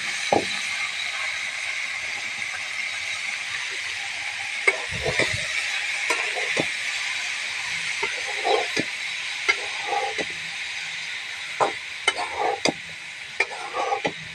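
Water spinach hissing and sizzling in a pan of fried garlic and dried chili, a steady frying hiss with scattered stirring clatters and sputters.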